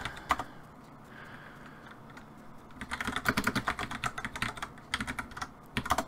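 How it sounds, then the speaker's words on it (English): Heavy typing on a computer keyboard, with a few isolated key strikes at first, then dense, rapid bursts of loud clacking that come in quick flurries with short pauses. "Oh yeah, heavy typing."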